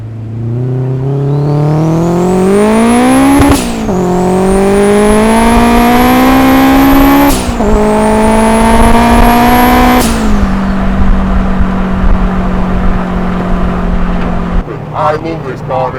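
A turbocharged Honda Civic with a bonnet-exit wastegate screams loudly from inside the car, climbing through three gear pulls with sharp shifts, a whistling turbo note rising over the engine, then settling to a steady drone before backing off.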